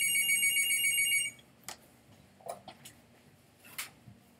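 A real telephone rings with a bright electronic ringtone for just over a second, then stops, followed by faint scattered clicks and taps.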